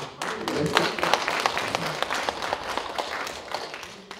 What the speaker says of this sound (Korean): 박수로 격려해 주세요